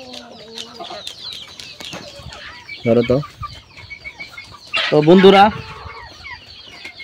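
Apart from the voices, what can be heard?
deshi chickens clucking on a farm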